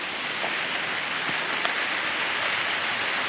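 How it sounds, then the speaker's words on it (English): Rain falls at a house build site in the Philippines, a soft, even hiss of drops with no voices. "now it's starting to rain a little more"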